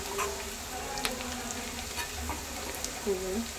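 Onion frying in a generous amount of oil for banana blossom bhaji makes a soft, continuous sizzle close by, broken by a few light stirring taps.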